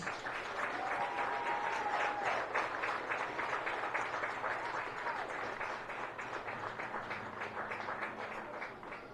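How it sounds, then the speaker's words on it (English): A large audience at a school event for graduating seniors and their parents claps in sustained, dense applause that stays loud throughout and eases only slightly toward the end. "Let's give them all one more big round of applause"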